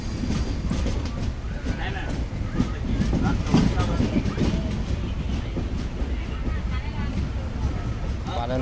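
The 16533 Jodhpur to KSR Bengaluru SF Express rolls slowly through Palanpur Junction, a steady loud rumble of wheels and carriage noise with faint clatter throughout, heard from inside the train.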